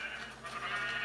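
Sheep bleat steadily in a sheep pen inside a blocky survival video game, a close, continuous nasal bleating without pause for about a second.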